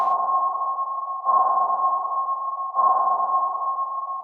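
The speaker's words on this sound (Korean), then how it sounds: "레이더 소리가 나는 거지." Sonar-like radar sound effect: a sustained pure electronic tone pulsing in long, evenly spaced pings, each starting with a sharp attack and holding steady, clear and alone.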